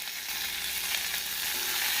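Onion, green chili and curry leaves fry in oil with mustard seeds for chickpea sundal, producing a steady, bright crackling sizzle with no voices.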